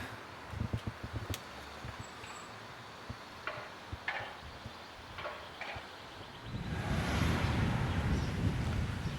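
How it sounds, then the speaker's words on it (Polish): Faint gusting mountain wind near Valldemossa, Mallorca, with soft buffeting against the microphone, a few light knocks, then a stronger, steady roar of wind in the final seconds. "Jak na góry przystało, musi oczywiście wiać. Musi wiać wiatr."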